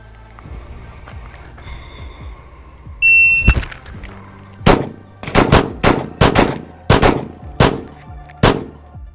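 Pistol fired from concealment at seven yards on an outdoor range, starting with an electronic shot-timer beep followed by a series of sharp, loud shots in quick succession.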